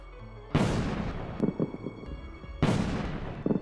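Two heavy booming fireworks blasts in the Trails in the Sky 3 video game, each a sharp loud burst that decays into rumbling crackle, with smaller pops between them.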